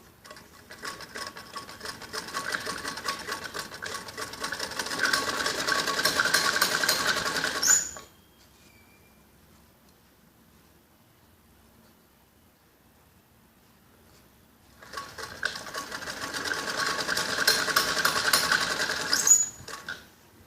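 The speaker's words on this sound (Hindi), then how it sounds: "अब ऐसे ही दूसरे सिरे पे भी ऐसे ही सिलाई लगाते हैं, ताकि लास्टिक कपड़े से सरक न जाए" A sewing machine stitches elastic onto a kids' skirt in two rapid rattling runs of about eight and five seconds, separated by a quiet pause, close and with no talking.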